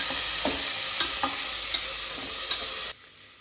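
Vangi bath ingredients frying in a pan give a steady, close crackling sizzle with light stirring scrapes throughout, cutting off abruptly near the end.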